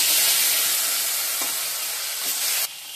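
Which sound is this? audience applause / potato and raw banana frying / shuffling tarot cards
potato and raw banana frying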